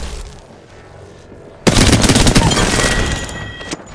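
Apex Legends gunfire in a match: a quiet stretch gives way to a loud, sustained burst of rapid shots that trails off, with a final shot at the end.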